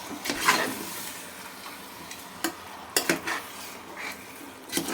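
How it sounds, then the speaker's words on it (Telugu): Mutton curry with salt being stirred in a pot, with repeated scraping and clinking of a spoon against metal over a soft frying sizzle, close and moderately quiet. "అన్నీ యాడ్ చేసుకొని అది తిప్పుకోవాలి"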